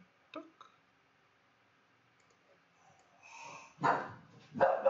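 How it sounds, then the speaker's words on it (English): An agitated dog reacting to other dogs somewhere in the distance lets out a short sharp bark, a couple of softer yips, then louder, rougher barking bursts near the end, close by in an otherwise quiet room. "Here's the dog getting all agitated about other pups somewhere in the distance."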